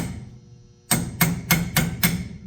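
Five sharp hammer taps on a classic car's metal wheel-bearing dust cap, spaced fairly evenly after a quiet start, each one close and crisp.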